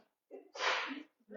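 One person sneezes during a T'ai Chi Chih class, a quick indrawn breath followed by a loud, sharp burst, then a brief breath afterward in an otherwise quiet room.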